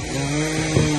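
A steady droning chainsaw hum with a harsh buzzing edge, at moderate distance, cutting firewood in a Siberian village, with a brief louder bite near the end.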